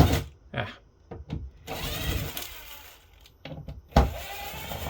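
A cordless power drill with a dying battery whirs in several short bursts, then runs longer with a strained, uneven pitch before a few more brief spurts, close by, during an all-in-one PC teardown.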